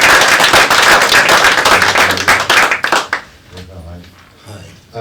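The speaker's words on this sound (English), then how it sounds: "Give him a round of applause." An audience applauds a musician at a film music event, with dense loud clapping for about three seconds that then thins out, followed by quieter voices in the room.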